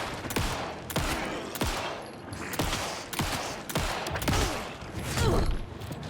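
Loud, repeated gunfire in Alan Wake 2, with sharp shots and echoing blasts about once a second under a low game rumble.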